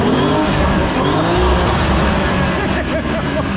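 A 2025 BMW M4 Competition fitted with front-mount intakes is driven hard, its engine roaring loudly and close with rising revs and a hint of tire noise, while people talk over it.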